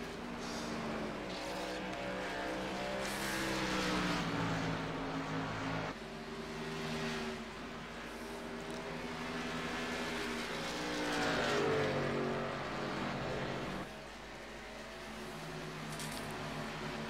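Race car engines howl at Chicagoland Speedway in a sim racing game, several cars droning steadily with pitch shifts as they pass and gear changes, loud and continuous without talk.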